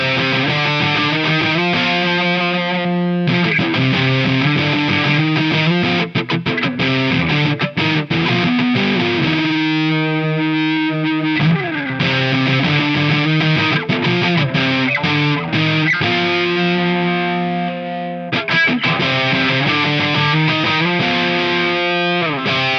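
Hartwood Fifty6 electric guitar played through heavy distortion on the bridge pickup, loud sustained chords and riffs ringing out with a gritty, saturated tone and brief pauses between phrases.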